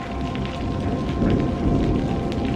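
Heavy rain pours down steadily in a cartoon scene, a loud, dense wash of rainfall that continues throughout with no voices.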